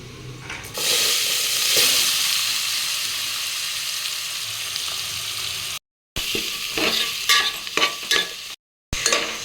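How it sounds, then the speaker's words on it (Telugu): Onions frying in oil with masala for a Telangana mutton curry, a steady loud sizzle with scraping stir strokes, broken twice by brief cuts to silence. "ఇప్పుడు ఈ ఆనియన్స్ నేను చాలా తెల్లగా దూరగా ఏంటంటే ఆయిల్లో ఫుల్గా ఫ్రై అవ్వాలి"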